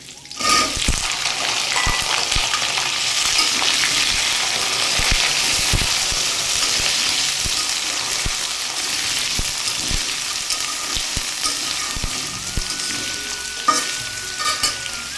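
Chopped potatoes fry in hot oil for vegetarian bhuna khichuri, a loud continuous sizzle broken by repeated scrapes and clacks of a spoon stirring the pan.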